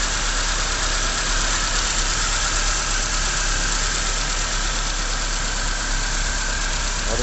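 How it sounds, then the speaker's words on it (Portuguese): A Chevrolet Spin engine idling, a steady, even mechanical hum that holds close and constant throughout, with no talk over it. "O motor funcionando direitinho,"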